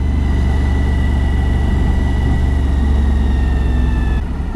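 A motorcycle engine pulls steadily in second gear on Highway 3 East between Hedley and Keremeos, British Columbia, a loud, constant droning roar with rising whine and wind rush throughout, cutting off abruptly at the end.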